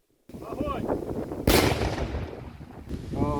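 A sharp detonation of enemy munitions at a special disposal site in Mykolaiv region, Ukraine, booms out amid open-air wind noise, followed by a lingering rumble, with a voice speaking briefly before and after.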